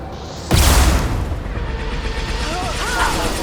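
Heavy weapons fire in the Mass Effect 2 video game: a loud sudden boom, then rumbling echoes and continued combat noise, with a voice speaking over it.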